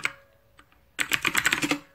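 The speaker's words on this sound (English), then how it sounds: "Oh, hold on. I gotta type again." Fast typing on a computer keyboard with dense, irregular clicks, loud and close, starting after a second of near silence and running to the end.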